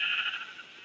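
A sheep in the Minecraft video game gives a single short, faint bleat, heard alone.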